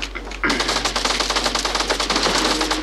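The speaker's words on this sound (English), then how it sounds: "You have an SMG that shreds materials at a quick rate of fire." Rapid SMG bursts from a video game, likely Fortnite, shredding building materials; a fast, steady stream of crisp shots starts abruptly after a short pause and continues without a break.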